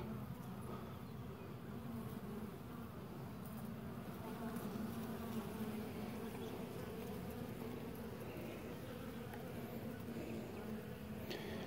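Honeybees buzz steadily around a nuc hive, a dense continuous hum of many insects close by with occasional individual bees passing nearer.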